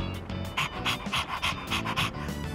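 A dog pants in the video game Persona 3 Reload, with quick, close, rhythmic breathy huffs repeating steadily for a couple of seconds and no voices.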